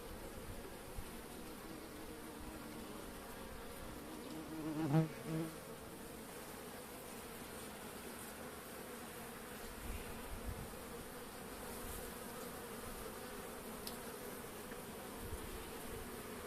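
Continuous low buzzing of many Caucasian and Carniolan honeybees close by at a hive, a steady drone with occasional louder passes of individual bees.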